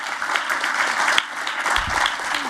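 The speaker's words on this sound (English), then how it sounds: "Please join me in a round of applause for them." Audience applause in a conference auditorium for a workshop panel, a dense steady patter of many hands clapping throughout, with a brief low rumble near the end.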